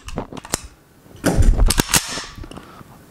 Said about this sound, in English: I'm going to load rounds again so you can see.